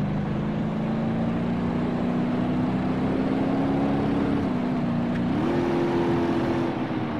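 A car accelerating in the BeamNG Drive driving simulator, played with a Logitech G27 wheel: a steady engine drone whose pitch climbs gradually, then steps up once more near the end, with no talk.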